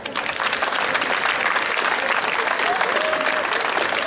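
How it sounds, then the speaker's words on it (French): A crowd claps steadily and loudly, sustained applause filling the whole stretch with no pauses. "Et vous pouvez vous applaudir."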